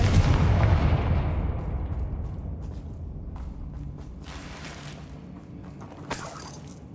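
A Confringo blasting spell goes off in Hogwarts Legacy: a loud explosive boom that rolls into a long fading rumble, followed by scattered debris clatters and a sharp late crack.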